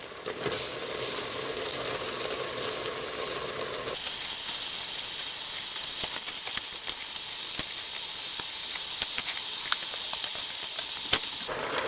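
Chayote pieces dropped into a simmering vegan sambal godog curry set off a steady hiss and sizzle, with small pops and crackles scattered through it, close by and with no voices.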